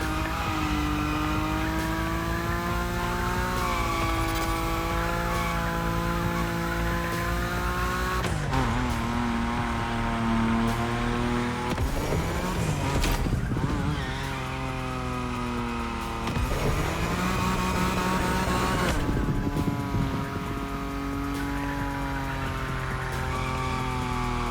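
A Nissan Nismo in The Crew Motorfest racing game sliding at high speed: a loud sustained engine drone with shifting pitch, gear-change breaks, and tire squeal running throughout, no voices.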